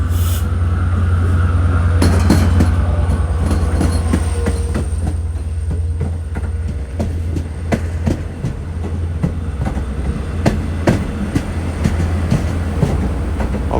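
A Long Island Rail Road DM30AC diesel locomotive, number 519, rolls past at Speonk hauling an eight-car set, with a steady heavy rumble, rhythmic wheel clicks over rail joints and occasional squeals, loud and close throughout.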